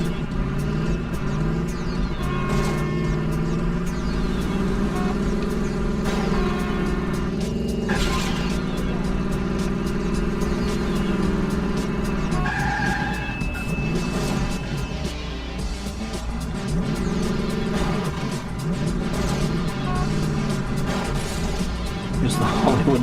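A car in The Italian Job video game drives with a continuous loud engine rumble and droning tones, with occasional sharper crash or skid bursts and no pause throughout.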